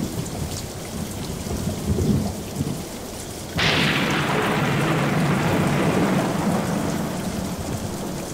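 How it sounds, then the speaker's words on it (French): A rumbling thunderstorm with steady heavy rain, the downpour swelling abruptly to a loud, dense roar partway through and holding there, with low thunder beneath and no speech. "je vais me faire une petite tempête"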